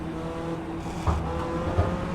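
Race car engine held on steady, patient throttle on cold tires in a racing video game at Lime Rock, a continuous droning hum with two brief louder bumps.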